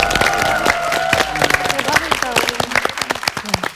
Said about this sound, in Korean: 자, 이 박수 쳐야 되겠는데?